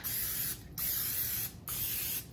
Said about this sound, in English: spray my muffin tin